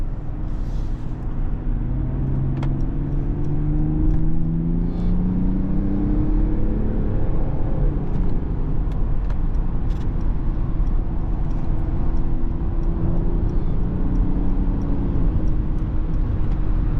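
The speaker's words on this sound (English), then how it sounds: "Let me put the car into sport." A 2024 Mercedes GLE450 Coupe engine in sport mode hums and rises in pitch as it accelerates through gears, heard from inside the cabin under steady road and wind noise.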